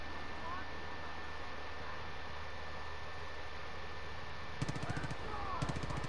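Rifle gunshots in the video game Far Cry 5: two sharp, loud cracks close together near the end, following several seconds of steady ambient game noise with no speech.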